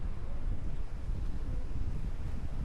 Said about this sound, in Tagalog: Mahangin eh.